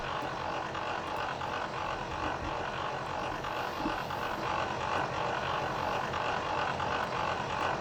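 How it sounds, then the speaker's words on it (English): A propeller airplane drones overhead, a steady broadband rumble that holds at a constant loudness from start to finish with no other sounds standing out. "Sorry about that plane sound."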